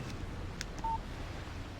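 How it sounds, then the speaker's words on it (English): A short electronic text message alert tone chimes once on a phone in the Alan Wake video game, a brief clear beep over a low background hum with no talking. "Text message from Barry"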